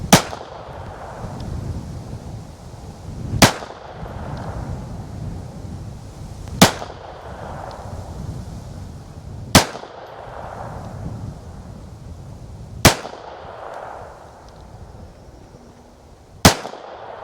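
Winchester Super X .22lr rounds fired one at a time at a range, six sharp cracks spaced about three seconds apart over a low hiss of background noise, with no voices.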